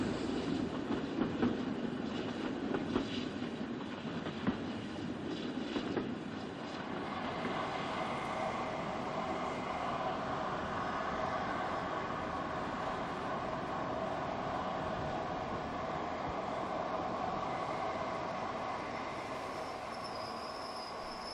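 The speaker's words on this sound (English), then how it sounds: "the train made its way out of London on a murky winter's morning" A train rolls steadily along the rails, wheels clattering and humming with a rising metallic ring, continuous and moderately distant, no talking.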